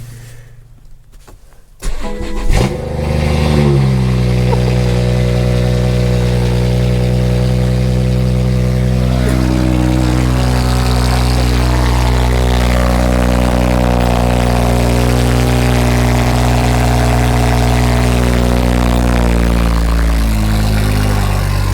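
A BMW 340i with a B58 engine and a loud aftermarket exhaust cold-starts after a short cranking burst, then settles into a loud, steady, deep idle drone held close by for the rest of the time, with no talk.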